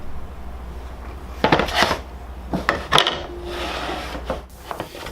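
Corners of a wooden back panel being rounded off by hand for a modern industrial console table, heard as several short rasping rubs and scrapes in uneven bursts, close and fairly quiet against a low steady hum.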